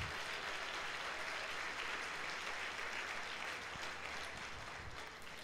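Steady applause from a church congregation at a Sunday service, dense and continuous throughout and fading slightly at the end, with no talk over it.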